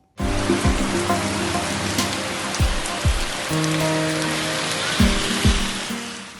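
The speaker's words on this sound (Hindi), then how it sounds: "पंजाब समेत उत्तर भारत के कई राज्यों में झमाझम बारिश हो रही है।" Heavy rain pours steadily during a downpour across Punjab and north India, a dense, continuous hiss on surfaces throughout, with a few low thuds and tonal hums from passing vehicles or machinery underneath.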